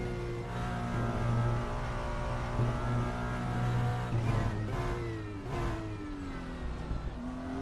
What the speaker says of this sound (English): the Ferrari doesn't actually sound that Ferrari